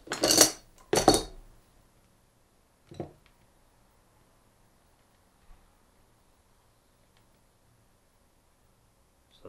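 Metal hand tools are set down after servicing a Kranzle M2000 pressure washer gun trigger: two loud clattering clinks close together, then a softer knock and faint scattered taps in a quiet workshop.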